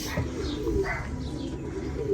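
Racing pigeons coo inside a loft, soft repeated low calls with a few faint chirps, close but quiet against a gentle background hum.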